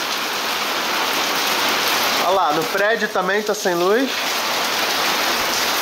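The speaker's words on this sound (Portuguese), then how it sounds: "Ó a chuvarada." Heavy night rain pours down in a steady, loud hiss during a power outage, continuous throughout. Someone speaks briefly over it in the middle.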